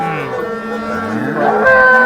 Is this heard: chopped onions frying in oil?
no